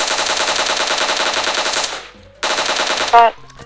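Automatic gunfire from PUBG Mobile rattles in a long, loud, rapid burst, stops briefly, then fires again before a short sharp sound; the shots are close and dominate the mix.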